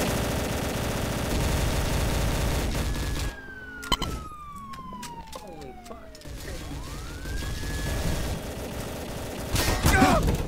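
Gunfire in a Garry's Mod World War II role-play game: sharp clustered shots among siren wails, sweeping tones and steady game background noise, with an abrupt quieter stretch midway and a burst of louder noise near the end.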